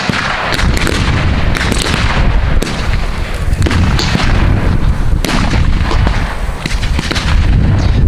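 Continuous loud, booming artillery and gunfire from a WWII battle reenactment in an open field at Rockford, Illinois, with rapid overlapping blasts and rumbling that fill the whole stretch.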